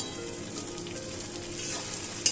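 Fish oil fries in a pan with turmeric and ginger paste, giving a dense close sizzle that holds steady throughout, with a small clatter at the end.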